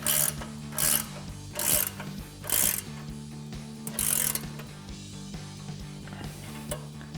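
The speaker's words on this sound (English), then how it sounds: "grab yourself a 19mm ratcheting wrench and tighten that down" A 19mm ratcheting wrench tightens a castle nut while upper control arms are fitted on a 2019-2025 RAM 1500. Several short, close ratcheting bursts follow one another in an uneven rhythm, with a mechanical hum between them.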